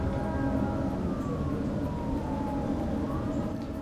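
An emergency vehicle siren wails steadily in the background, its rising and falling tone sustained throughout over a constant low rumble of traffic or wind.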